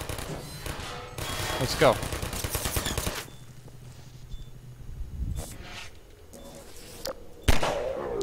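Sentry turret firing in Half-Life 2, bursts of rapid automatic gunfire in the first few seconds and again near the end, loud and close, with a person speaking briefly.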